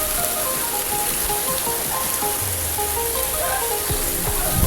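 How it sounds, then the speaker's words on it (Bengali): Steady rain falls hard during a flooding downpour, water rising toward a house as the street begins to go under; a dense, continuous hiss of drops on surfaces fills the scene, close and loud, with no voices. "বৃষ্টি হইতেছে,"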